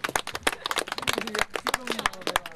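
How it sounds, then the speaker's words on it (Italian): Audience applauding a young race winner at a club race in Triora, a close, irregular patter of hand claps from a small crowd with voices mixed underneath. "Un applauso a questo giovane."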